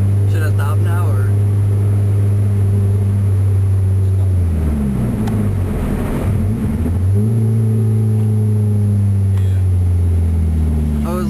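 A car with a mufflerless exhaust drones loudly and deeply from inside the cabin, rising into a rev in the middle before dropping back, with people talking over it.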